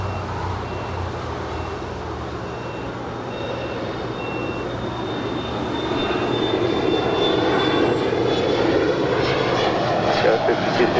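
Spirit airliner taking off from runway 25 right at LAX: a jet engine roar that builds steadily and grows louder toward the end, heard from a distance alongside tower radio chatter.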